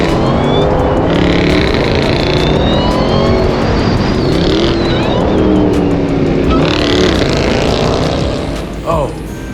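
A Jeep Trackhawk engine revs hard with a supercharger whine, a loud, sustained roar and rising whine from close by, with pitch swells as the throttle climbs and talk underneath.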